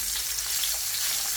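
Food frying in a pan on low heat gives a continuous dense hiss of sizzling with fine spattering crackles. It is close and steady throughout, with no voices.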